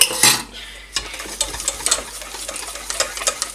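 Vegan crepe batter is stirred and whisked in a bowl, making quick, light scraping clinks against the sides in uneven bursts, close and fairly quiet.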